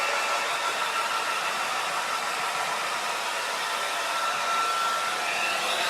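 A hair dryer blows a continuous, even whoosh close by while a watercolour painting of trees is dried, loud and unbroken for the whole stretch with no voices.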